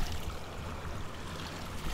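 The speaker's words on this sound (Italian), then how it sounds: "Sentire un po' di sfoghi d'acqua" Water gushes and rushes steadily at a five-star hotel, a dense even wash of noise that stays constant for a couple of seconds with no voices.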